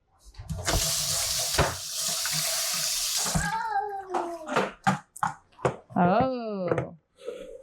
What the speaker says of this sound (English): I wanted to rinse it anyways.